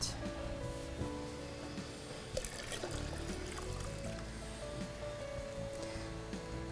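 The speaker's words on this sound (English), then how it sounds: "we can always add more water to that" Water pours into a canning pan holding apple sauce jars, a steady close trickle and splash running throughout with faint clinks in a kitchen.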